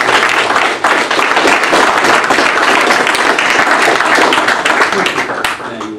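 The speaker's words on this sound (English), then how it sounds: "let's give these two fine legislators a round of applause and appreciation." A crowd at a campaign event in Boone, Iowa applauds two state legislators, dense continuous clapping filling the room for several seconds, with voices mixed in beneath it before it tapers off.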